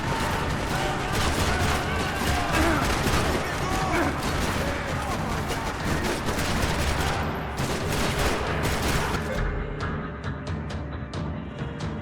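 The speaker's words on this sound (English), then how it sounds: "Another parking lot rattling with gunfire." Rapid bursts of gunfire rattle through a parking lot shootout in Max Payne 3, set in São Paulo, with overlapping shots and crashes, loud and continuous before easing near the end.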